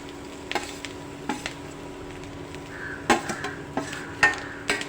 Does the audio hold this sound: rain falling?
no